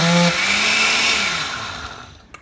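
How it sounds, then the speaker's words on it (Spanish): A blender whirs loudly and close as it purées mango for a mango cheesecake pie, a steady motor roar that starts strong and slowly fades toward the end. "Vamos a empezar a licuar el mango."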